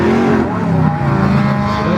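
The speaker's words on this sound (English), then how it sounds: "The big H truck putting the power down." A stock Chevy pickup truck engine revs hard and loud, putting the power down at an off-road race park in central Oregon, with a continuous dense roar and faint tire noise for two seconds.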